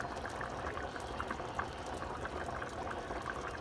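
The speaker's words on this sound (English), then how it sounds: "we're going to let it simmer at medium with the lid on" Cowboy stew with potatoes simmering in a covered pot over medium heat, a soft steady bubbling and burbling, faint and continuous, with no talk.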